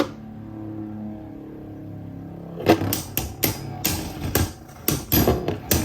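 Beyblade Burst spinning tops clash in a stadium: a quiet whirring hum, then a run of sharp, loud metallic and plastic impacts coming in quick irregular bursts up close.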